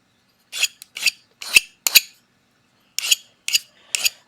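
A metal file rasps across a coin being shaped into a ring, in seven short, separate strokes: a quick group of four, a pause, then three more, close and crisp.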